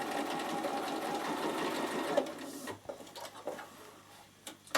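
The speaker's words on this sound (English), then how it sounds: "you're going to back stitch" A sewing machine, a Bernina, back stitches across the edge of a plastic bag, whirring steadily at close range for about two and a half seconds before stopping, followed by quiet handling clicks.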